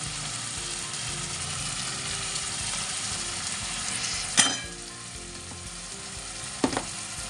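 A ground spice paste of green chilli, tomato, ginger and cumin with turmeric sizzles steadily in a pan for a potato and pointed gourd curry, with two sharp scraping clatters of a spatula against the pan.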